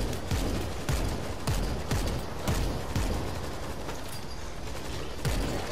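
Turret gunfire in a zombie survival game, a rapid stream of repeated shots and sharp impacts over several seconds, fairly loud and continuous, with no voices over it.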